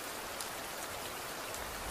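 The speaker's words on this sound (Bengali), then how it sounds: "বাইরে ঝিমঝিম করে বৃষ্টি পড়ছে।" Light, steady rain falling outdoors at night, a soft continuous patter of drops heard alone with no voices, even and unbroken throughout.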